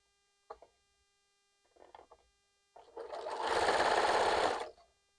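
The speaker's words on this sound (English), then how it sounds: "All right, so to the sewing machine we go. All right, I'm just going to sew this in." A sewing machine stitches stretchy striped T-shirt fabric for a quilt, starting with two short bursts and then running in one loud steady run of about two seconds before stopping.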